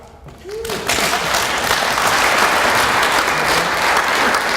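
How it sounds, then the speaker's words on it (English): An audience at the Kauai Energy Conference 2017 breaks into applause after a short quiet moment, the clapping rising quickly into a dense, steady wash that holds to the end. "Everybody clap."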